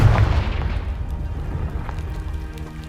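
A Confringo blasting curse detonates in Hogwarts Legacy, a loud low boom at the start that rumbles and decays into a long, fading debris-filled tail with no voices.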